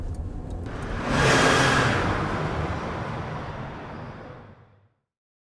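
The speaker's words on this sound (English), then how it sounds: "It's still quite loud in the car, that's not changed." Inside a BMW E30 on the move, engine and road noise swells into a loud whooshing roar, then fades gradually away into near silence.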